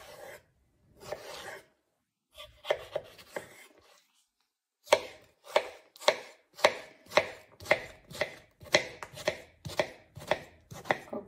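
A knife chops cucumber into cubes on a cutting board, a few irregular cuts first, then a fast even series of crisp, close taps.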